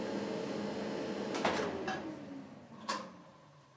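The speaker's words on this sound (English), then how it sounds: "Open the door on the dryer." Whirlpool clothes dryer door being opened, with a soft latch click followed by a hollow clunk and a second knock, close and quiet against a faint background hum.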